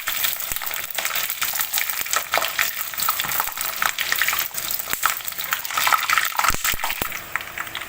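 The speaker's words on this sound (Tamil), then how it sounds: "ரெண்டையும் நம்ம எண்ணெயில் பொரித்து எடுத்துக்க போகிறோம்" Raisins and almonds frying in hot oil, giving a dense continuous sizzle close by, broken by sharp spoon clicks and scrapes against the pan.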